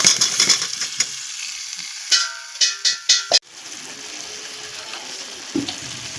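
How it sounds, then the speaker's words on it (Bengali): Pieces of ash gourd (chal kumra) tipped into spice paste frying in a pan, a run of sharp metallic clanks and knocks followed by a burst of steady hiss and sizzle that settles into continuous frying. "মশলাটা আমার কষানো হয়ে গেছে এবারে আমি চাল কুমড়োগুলো ঢেলে দেবো"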